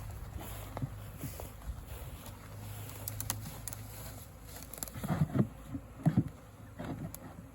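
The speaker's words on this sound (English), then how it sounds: "Get the bees in there and hopefully they'll follow the queen in." A honey bee swarm being moved into a hive box gives a steady, low insect buzz throughout, with a few louder bumps and knocks near the end and no voices.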